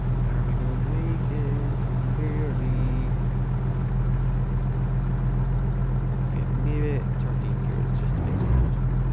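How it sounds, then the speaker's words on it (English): Truck engine idling in American Truck Simulator, a steady low rumble running continuously throughout at moderate level, with brief voices talking over it in places. "I can just leave it idling over, I guess."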